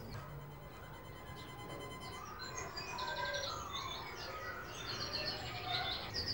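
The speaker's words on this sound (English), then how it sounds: "a song thrush will imitate the bird on the tape and create a dialogue" Recorded birdsong played from a tape through outdoor garden speakers, with several bright chirps and short warbling phrases coming in bursts, fairly faint against a soft background hiss.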